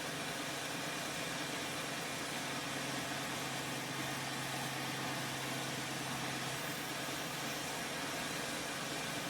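A tractor engine idles in Farming Simulator 2013, a steady low mechanical drone that holds constant and unbroken throughout against a broad hiss, with no other sounds.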